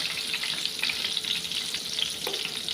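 Sliced eggplant sizzles and crackles in hot oil in a pan, a steady busy frying hiss with small pops throughout.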